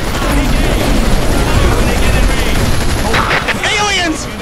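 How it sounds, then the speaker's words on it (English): Gunfire rattles through a battle in the video game Earth Defense Force 5, a dense, loud, continuous barrage of shots layered with booming noise, while voices speak over it toward the end. "they've opened fire!"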